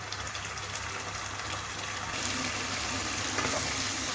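Marinated beef frying in hot oil for homemade black pepper beef, a steady dense sizzle with occasional stirring, close and continuous with no talking.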